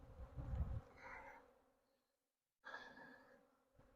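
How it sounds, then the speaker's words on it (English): Honey bees buzzing around an open hive during an early spring inspection, crowding over the honey; a soft, close hum swells and fades, breaks off into a short silence, then returns. "Bees are all over the honey."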